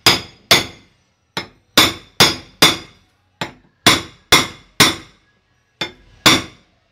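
Sharp hammer blows drive a bearing into a homemade shaft housing, with a ringing metallic clink on each hit. They come in irregular groups of two or three strikes over several seconds, close and loud, with no speech.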